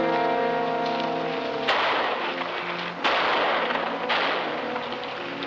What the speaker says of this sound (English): Shots are coming from beyond the bend in the road